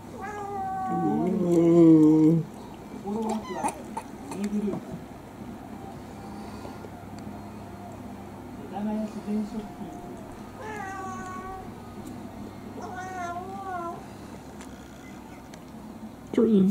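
Several cats meow insistently while begging for sashimi indoors, with repeated plaintive calls spaced over a quiet room and a voice talking between them.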